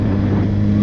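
A Suzuki Hayabusa motorcycle with its stock exhaust drones steadily at close range, a smooth, even low rumble held without a break and with no voices over it.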